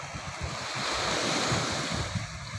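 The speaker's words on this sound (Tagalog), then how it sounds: "hindi na kasi malakas yung alon at saka yung hangin" Waves crash and churn steadily while a strong wind roars across the microphone.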